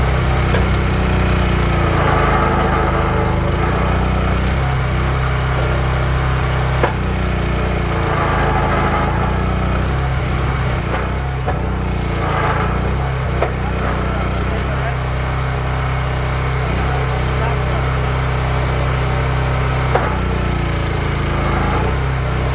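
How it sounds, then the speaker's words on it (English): Wolfe Ridge 28-ProX log splitter, already warmed up, running continuously while splitting boiler wood, a loud steady engine drone with intermittent strains and sharp cracks of splitting logs. "We're going to try not to flip the splitter this time."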